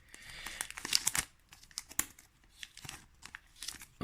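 Foil booster pack of Pokémon cards being torn and crinkled open, a run of close, sharp rips and crackles in bursts over several seconds.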